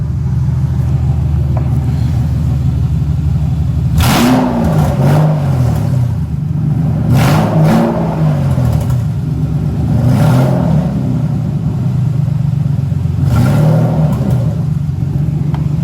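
A Mercedes SL600 engine, on test after a transmission install, idles with a low rumble and revs up in drive four times in spaced bursts, each rise and fall clearly heard up close.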